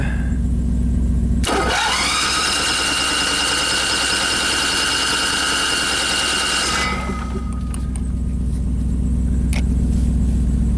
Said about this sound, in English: Let's see if this generator can fire up.